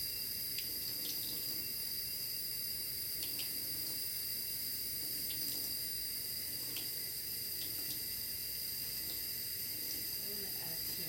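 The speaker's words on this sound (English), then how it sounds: "then you're going to add a couple tablespoons of water" Water trickling into a bowl of flax seeds, a faint, steady hiss-like pour running throughout at low level with small clicks, no talking over it.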